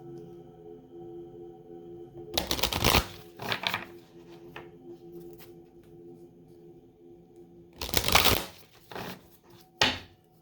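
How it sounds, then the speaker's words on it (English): Oracle cards being shuffled in three separate bursts of papery riffling, close and fairly loud against a quiet room with a faint steady hum; no talking. "I'm hearing 3 shuffles."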